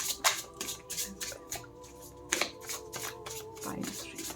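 Tarot cards being shuffled by hand in a run of papery riffles and slaps, close and moderately loud, with a faint tonal hum underneath.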